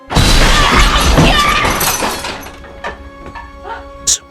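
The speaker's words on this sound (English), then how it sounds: "Practically every cabinet is violently thrust open simultaneously." Movie jump-scare effect of nearly every kitchen cabinet violently thrust open at once, a loud crashing, shattering burst that fades into a tense tonal drone with scattered thuds.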